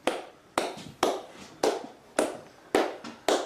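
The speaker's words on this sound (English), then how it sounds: "What are you clapping for?" Seven slow, evenly spaced sharp hand claps ring out in a reverberant space at Blackpool Pleasure Beach. Each clap is followed by a long echoing decay, and no one talks.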